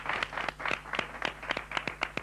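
A TV studio audience claps for the magician Pepe Carroll, a short burst of distinct, fairly close hand claps in a quick, uneven rhythm, with a low steady hum beneath.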